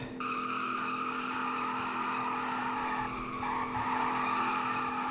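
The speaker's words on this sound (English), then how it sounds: "It's rear-wheel drive, so you can rip some burnouts." A rear-wheel-drive 2002 Silverado pickup in a video game squeals its tires through a burnout drift, a continuous loud screech over a droning engine for several seconds, with no talking.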